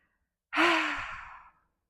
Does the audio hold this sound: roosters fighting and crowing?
no